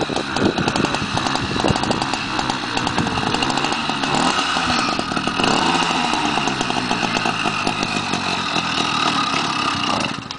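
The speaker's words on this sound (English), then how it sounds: "I'll fire up the engines to let you hear what they sound like" A stock motorcycle engine that has sat unused for a while, running loud and close with a raspy, buzzing, chainsaw-like drone that holds steady for about ten seconds.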